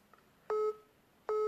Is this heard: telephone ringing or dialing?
yes